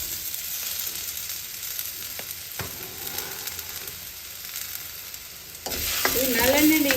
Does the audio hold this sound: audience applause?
no